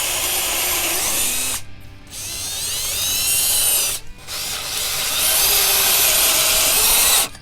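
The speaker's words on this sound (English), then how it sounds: "I'll start a little pilot hole first, like so, before getting the angle lined up" A drill bores a pilot hole through boards, running loud and steady with a grinding whir, cutting out briefly twice and then resuming at a slightly higher pitch, close by with no talking.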